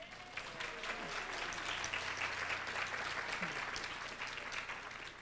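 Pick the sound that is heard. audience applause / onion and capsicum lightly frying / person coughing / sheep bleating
audience applause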